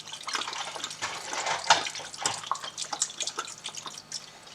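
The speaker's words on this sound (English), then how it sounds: "And then we're going to add Worcestershire sauce, about the same, 2 tablespoons." Worcestershire sauce pours into a chicken marinade with a soft, trickling, dripping liquid sound, faint and close, with small splashes through the pour.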